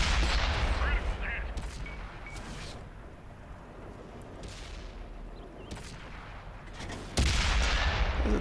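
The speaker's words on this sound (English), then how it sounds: "The gun has a nice sound." Gunfire in a video game: several sharp shots and short bursts crack out over a steady rumble of game ambience, with one heavier blast near the end.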